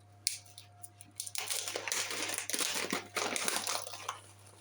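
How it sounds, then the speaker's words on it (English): Close, soft crinkling and rustling of fabric and beeswax comes in irregular bursts after a quiet start, while making reusable beeswax wraps. "Excuse the rustling."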